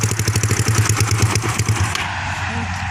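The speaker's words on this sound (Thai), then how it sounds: "ดับเครื่องเลย" A Yamaha Mio scooter engine idling close by with a throbbing, pulsing putter for about two seconds, then cut off, leaving a faint hum and ambient noise.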